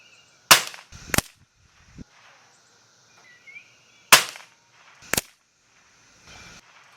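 A Winchester 1977 .177 multi-pump air rifle fired outdoors, with sharp snapping cracks heard close and loud, followed by fainter clicks and handling noises in a quiet setting.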